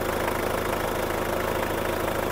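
A workshop engine whose oil is mixing with the coolant water, brought in for a top overhaul, idles steadily up close with a dense, even rumble and a fast rhythmic pulse, with no talk.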